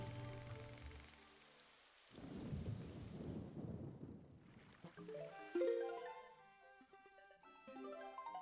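Steady rain in a video game during Endless Night, with a low thunder rumble swelling midway, while a clear musical melody rises over the downpour toward the end.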